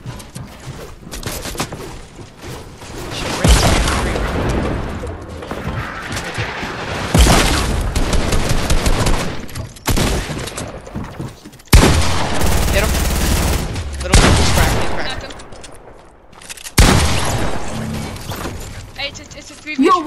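Rapid bursts of automatic gunfire and heavy booming blasts, likely RPG rockets, crackle through a Fortnite firefight in several loud volleys, with players talking over the shooting.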